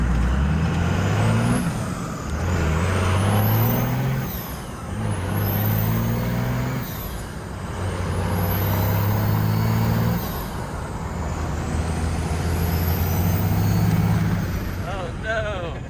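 A Cummins-powered dump truck with straight-piped exhaust, NV5600 6-speed, edge box and a slipping, worn clutch pulls away. The loud diesel engine climbs in pitch again and again, dropping between gear shifts, with a whistling whine riding on top.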